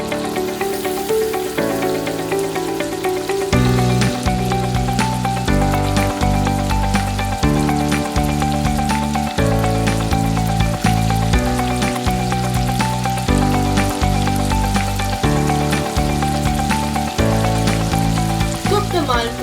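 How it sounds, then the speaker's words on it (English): Malpua batter frying in hot ghee, a continuous sizzle under loud rhythmic background music that carries through the whole stretch. "Cook the malpuas on low flame, and once they turn golden brown, flip the side."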